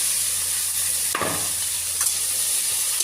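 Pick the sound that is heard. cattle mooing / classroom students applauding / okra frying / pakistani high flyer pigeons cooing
okra frying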